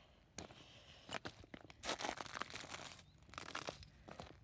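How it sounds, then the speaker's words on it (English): Footsteps crunch through dry seaweed and shells on a shell-covered beach, close and fairly loud, as a string of crisp crackling steps picks up after a quiet start and continues unevenly. "Very crunchy seaweed."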